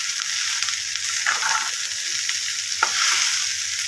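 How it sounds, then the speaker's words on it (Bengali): Boiled potato stirred and mashed with onions in a hot pan for Bengali alu chokha, continuous soft sizzle with a few scraping strokes of the spatula, nothing spoken. "আলু সিদ্ধটা দিয়ে দিলাম, দিয়ে ওর মধ্যে নেড়ে নিই"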